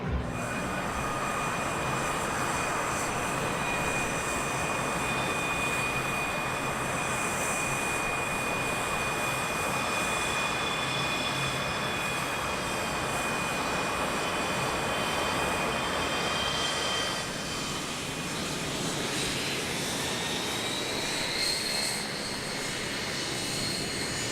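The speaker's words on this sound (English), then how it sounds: "the time comes for them all to start up their engines" A fleet of L-39C Albatros jets starts up at an airshow, a loud steady turbine roar with a high whine building and shifting, heard from close by for a long continuous stretch.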